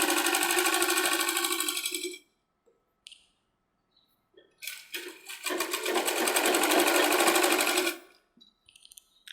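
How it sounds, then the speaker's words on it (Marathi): A sewing machine stitches a bell sleeve strip in two loud, close runs of fast rhythmic needle clatter, separated by a pause with a few faint clicks. "पट्टी हलक्या हाताने शिवत जायचं।"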